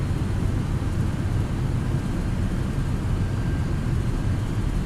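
Thrust reversers deploy on an MD-11 in Microsoft Flight Simulator 2020, a loud continuous low roar of jet engines and rushing air that holds steady throughout.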